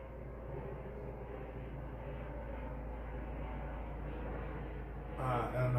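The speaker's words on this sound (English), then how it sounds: "there was a helicopter flying over" A life flight medical helicopter passes overhead outdoors, a faint continuous low drone heard from a distance for several seconds before a louder thump near the end.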